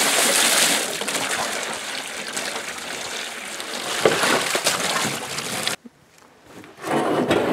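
Water gushes and splashes steadily over a homemade wooden goat hay feeder as it is rinsed off, loud and close, then cuts out briefly before resuming.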